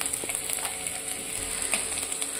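Wet peas, grated carrot and chopped green chilli frying in hot oil for vegetable noodles, a close continuous sizzle with light scraping and stirring sounds, no talking.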